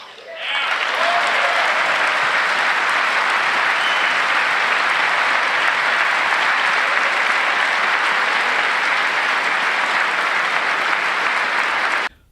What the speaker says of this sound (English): I extended out the applause there